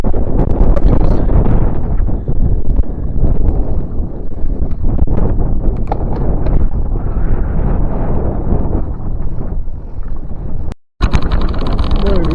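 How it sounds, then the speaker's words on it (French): Strong wind buffets the microphone on a road in northern Europe between Linköping and Norrköping, a loud continuous roaring rush throughout with a brief dropout near the end. "aujourd'hui j'ai retrouvé le vent"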